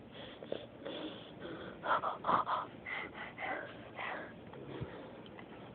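A young boy imitates his father's snoring, producing breathy, raspy gasps and snorts at close range in a short irregular run, with no clear speech over it.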